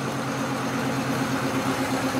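A quiet muscle car engine idles steadily with a low, even rumble, close by and unchanging throughout, with no talking.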